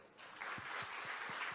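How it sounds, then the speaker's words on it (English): Audience applause at a talk, steady clapping with scattered louder claps, fairly close and continuous throughout. "Applause for him."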